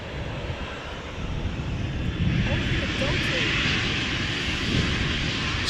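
A KLM airliner at Amsterdam Schiphol Airport, heard as a steady, loud engine roar that swells slightly midway and holds, with wind rush, no voices in the clip.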